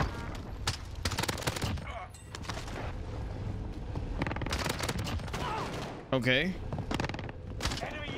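Bursts of gunfire in Warzone, with a P90 in play, crackle in rapid volleys and scattered single shots, fairly loud and close. A voice speaks briefly between the bursts.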